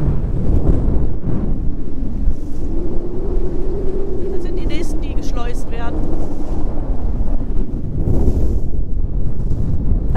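Strong wind at a harbour by a lock in Amsterdam rumbles and buffets the microphone continuously, loud and close, while someone talks over it.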